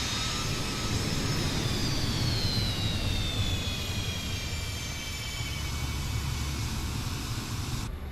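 Fokker 100 jet engines spool up in Microsoft Flight Simulator 2024, giving a loud, steady roar with a rising whine that slowly glides down in pitch, continuous throughout.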